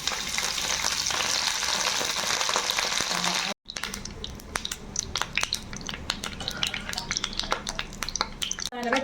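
Curry leaves hit hot coconut oil in a pan before a mussel fry, giving a close, busy sizzle; a brief drop is followed by dense crackling and popping spatters.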